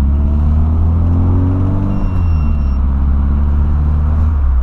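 A Volkswagen Voyage engine revs hard and close after a carburetor rebuild, a loud continuous rumbling roar with pitch rising and falling, no voices.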